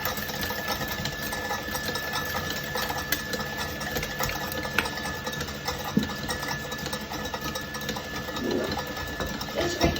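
Electric mixer whipping cream at a higher speed in a home kitchen, a steady continuous whir holding throughout with faint clinks and no talking.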